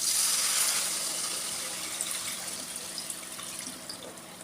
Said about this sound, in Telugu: ఒక లీటర్ వరకు చింతపులుసు అయితే తీసుకున్నాను ఈ పులుసుని అయితే ఇందులో పోసుకుంటున్నాను